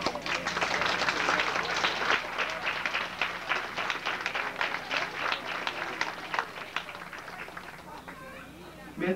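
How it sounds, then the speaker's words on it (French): An audience applauds at a live stage show, a dense sustained patter of clapping that thins toward the end, with some voices mixed in. "Je pense que ça mérite une bonne main d'applaudissement."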